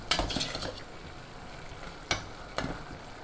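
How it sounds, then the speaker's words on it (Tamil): Cooked tomatoes mashed with a ladle in a pan for amla (gooseberry) rasam, giving soft squelching scrapes and a few sharp metal taps against the pan, close and fairly quiet, with no voices. "அதிலே கரண்டிலே வச்சு நல்லா மேஷ் பண்ணிக்கோங்க."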